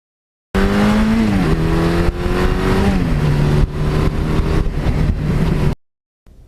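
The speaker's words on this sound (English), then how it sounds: "Going through the gears or holding that throttle wide open, there's just no way that isn't fun" 1982 Suzuki GS1100E motorcycle accelerating hard through the gears, its engine note climbing and dropping at each of several shifts, loud and close, then cutting out abruptly.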